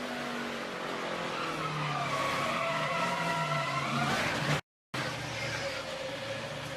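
An ARCA Racing Series race car slides loose in a corner at Madison, Iowa, a steady loud roar of engine and skidding tires running unbroken, with a brief cut in the sound near the end.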